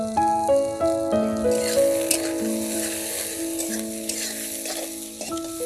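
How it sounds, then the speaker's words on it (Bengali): Chopped onion with salt and turmeric fries in a pan under a soft, steady sizzle, stirred now and then, while sustained melodic tones ring over it. "পেঁয়াজটা আমার হালকা বাদামি করে ভাজা হয়ে গিয়েছে।"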